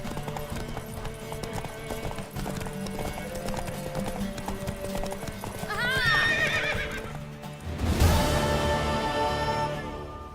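A horse in The Witcher 3 clip-clops along steadily, then lets out two loud whinnies near the end, the second one sharper and stronger.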